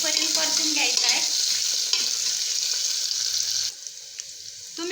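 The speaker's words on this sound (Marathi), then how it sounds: "कांदा छान गोल्डन ब्राउन कलर येईपर्यंत परतून घ्यायचा आहे।" Onions with bay leaves fry loudly in a pan until golden brown, a dense, steady sizzle broken by spatula stirring scrapes, then dropping suddenly to a quieter hiss near the end.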